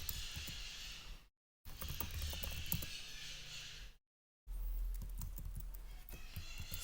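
Clattering keystrokes on a computer keyboard as lines are added to a file, rapid uneven typing in three bursts broken by brief dead silences, close and clear with no voices.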